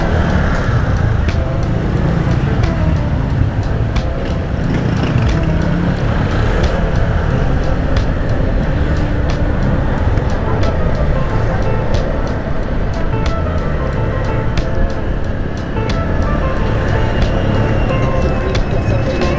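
Steady street traffic in Maharlika Village, Taguig, with motorcycles and cars idling and passing by a busy market road, continuous and fairly loud, with some talk mixed in.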